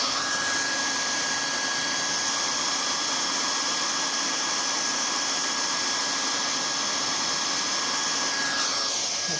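A heat gun shrinks heat shrink tubing during a BSA Bantam D7 motorcycle rebuild, giving a steady, close, loud fan roar with a thin constant whine that holds unchanged for the whole stretch, with no talking.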